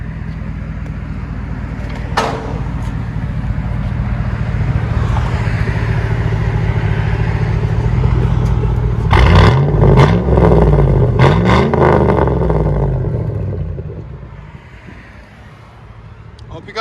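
Exhaust of a 2002 Chevy Silverado with a 5.3L V8 and muffler delete, idling with a steady deep drone, then a sharp burst of loud revs midway that rises and falls before settling back.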